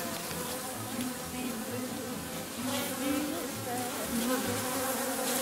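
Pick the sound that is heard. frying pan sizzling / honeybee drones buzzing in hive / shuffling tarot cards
honeybee drones buzzing in hive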